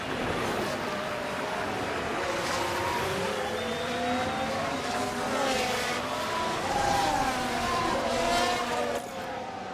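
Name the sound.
F1 car engine in video game F1 Manager 24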